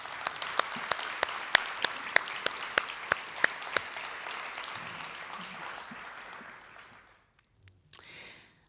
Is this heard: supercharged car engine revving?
no